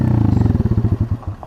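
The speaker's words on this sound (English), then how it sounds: "Thing is too is this bike dies, so if I'm not like revving it" An Apollo RFZ pit bike with a faulty carburetor idles with a close, loud, rapid low thumping that slows and stumbles as the engine dies out.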